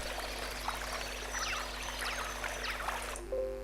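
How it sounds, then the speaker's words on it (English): Flowing water from a meditation app's stereo soundscape, a continuous soft trickling pour with light splashes, faint and steady over a low hum, cutting off near the end. "on the left side you hear the water"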